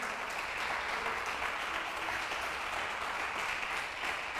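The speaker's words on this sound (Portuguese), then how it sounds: "Dá um aplauso aí, ó." Steady, dense applause from a gathered audience at a religious talk, even and sustained for several seconds at moderate distance, with no voices standing out.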